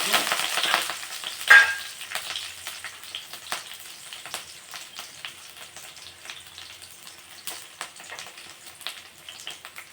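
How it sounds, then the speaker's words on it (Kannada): Curry leaves dropped into hot oil for a curd rice tempering burst into a sharp sizzle, then settle into a softer, crackling fry with light spatters. "ಇದಕ್ಕೆ ಇವಾಗ ಕರಿಬೇವು ಹಾಕ್ಬೇಕು."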